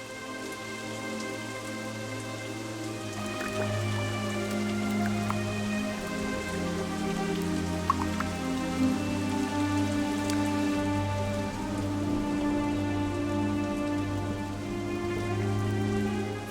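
Steady rain falling in a rainforest, a dense continuous patter of drops on foliage, close and even throughout with a low musical drone underneath.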